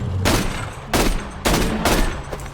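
Four bursts of in-game gunfire from a weapon in Borderlands 2, each a loud broadband blast with a rolling tail, spaced about half a second apart over a steady low background rumble.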